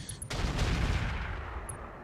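Ultra AC/20 autocannon fire in the BattleTech game RogueTech, a heavy booming blast burst with a sharp onset and a long rumbling tail that fills the whole two seconds, no talk over it.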